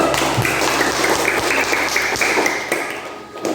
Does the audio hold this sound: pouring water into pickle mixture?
no